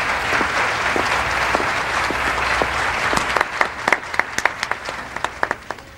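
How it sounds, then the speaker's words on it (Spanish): Studio audience applause for a young female contestant on a televised beauty contest, steady dense clapping that grows sharper with louder individual claps toward the end, no talking over it. "Un fuerte aplauso para esta joven y encantadora concursante."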